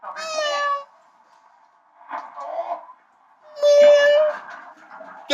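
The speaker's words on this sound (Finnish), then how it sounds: "Kissa ei tehnyt mitään, kissa oli kiltisti." A cat meows loudly and close in three drawn-out, wailing calls separated by short pauses, with the last call the strongest.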